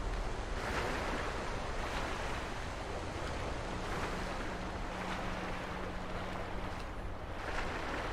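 Steady rushing water from a waterfall in the video game Sekiro: Shadows Die Twice roars continuously, a dense, even wash of noise, with no voices.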